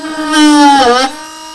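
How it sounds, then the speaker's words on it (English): A power drill bores a hole through the middle of a wooden snowflake piece, a brief rising motor whine that bites in, strains and then eases off, close and loud, with no talk. "So just drill a hole in the middle of it"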